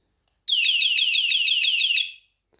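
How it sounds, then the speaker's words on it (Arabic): A single loud electronic motorcycle horn tone, rapidly warbling and trilling for about a second and a half, close by, then stopping abruptly into silence. "كده هي غيرت الهورن الاولاني، دخلت في الهورن التاني، نشوف صوته عامل ازاي"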